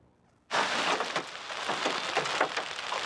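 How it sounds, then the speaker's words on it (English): A hailstorm in Fort Worth bursts in suddenly and keeps up a dense, loud clatter of hailstones striking cars and surfaces, a continuous rattling roar with scattered sharper hits. "A hailstorm pounding its way through Fort Worth today."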